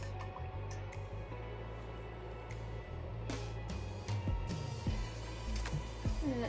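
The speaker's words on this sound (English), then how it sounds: "And then I'm going to rinse that off." A paintbrush swishes and dabs in a water cup, with small drips and liquid sloshing close by, in intermittent bursts with faint clicks between.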